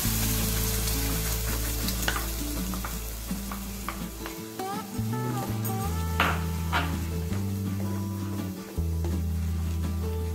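Ground spices and Kashmiri red chilli frying in a pan over a medium flame for malai kofta, a loud, close, continuous sizzle with scattered stirring clinks and scrapes over a steady low hum, no talking.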